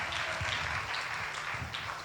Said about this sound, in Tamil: கைத்தட்டு பார்க்கலாம்